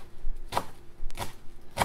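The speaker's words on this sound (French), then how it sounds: "on va venir ciseler" A knife chops through rolled parsley on a board in three crisp, evenly spaced strokes, close and clear with no talk.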